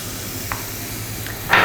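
Red pepper, corn and garlic sauté in a pan with a continuous low sizzle, a couple of faint clicks, and a louder hissing burst right at the end.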